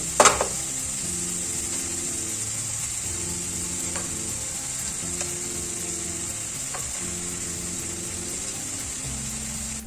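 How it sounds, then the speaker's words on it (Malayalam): Cooked rice being stirred into fried masala in a pan, a continuous hiss of frying with rhythmic scraping strokes and a sharp knock at the start, steady and close with no speech. "വെച്ച് വെച്ചിരിക്കുന്ന ചോറ് ഇതിലോട്ട് ചേർത്ത് കൊടുക്കാം കുറേശ്ശെയായിട്ട്."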